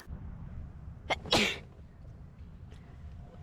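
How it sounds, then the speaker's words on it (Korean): Someone in a tent on a freezing winter camping night in Switzerland lets out a sharp, loud sneeze with a short lead-in burst, standing out over a quiet, low background rumble. "코 막히고 재채기하고 난리 났어요."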